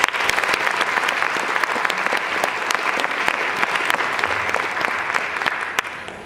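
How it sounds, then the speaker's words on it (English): Round of applause from the audience at a College of Marin convocation, many hands clapping at once with individual sharp claps audible, sustained and fairly near before it tapers off. "So please let's give them a round of applause."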